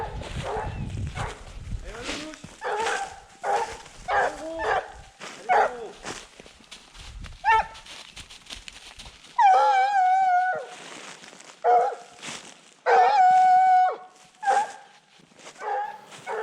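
Several hunting dogs on a wild boar hunt in snow bark and bay in repeated bursts, some long drawn-out howling bays, with pauses and rustling between; voices are audible at times.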